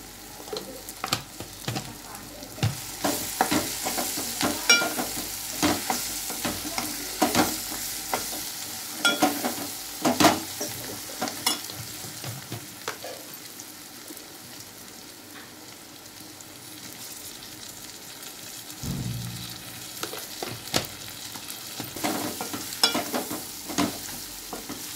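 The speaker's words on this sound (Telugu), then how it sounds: "అల్లం ఎల్లిగడ్డ పేస్ట్ కూడా మంచిగా మగ్గింది. నెక్స్ట్ తగినంత పసుపు వేసుకోండి." Ginger garlic paste and turmeric stirred and frying in a pan, a continuous soft sizzle broken by repeated scraping strokes of a spoon, close and fairly loud, with no talking.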